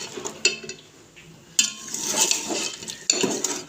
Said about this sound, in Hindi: मसाले डाल के हम अच्छे से भून लेंगे